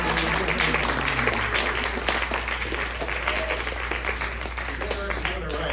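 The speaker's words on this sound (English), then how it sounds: "Give me a round of applause for this section." Applause breaks out from the audience at a poetry book release reading in Nashville, crisp claps scattered across the whole stretch and mixed with voices talking over them.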